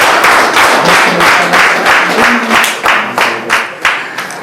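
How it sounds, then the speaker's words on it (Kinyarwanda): Close, loud rhythmic clapping from a group at a wedding, individual claps distinct and fading slightly toward the end. "Nabo mubaye amashyi menshi cyane."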